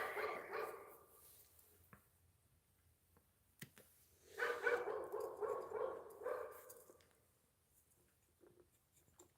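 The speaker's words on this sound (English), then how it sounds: "Stupid barky dog." A dog barks in two bursts, a short cluster at the start and a longer run of loud, close barks midway, with quiet gaps between.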